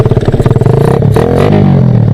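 A motorcycle fitted with a 30-hole atomizer on a 32mm carburetor and 130 jetting revs hard up close, pulsing sharply at first and then settling into a loud sustained roar with some mechanical clatter.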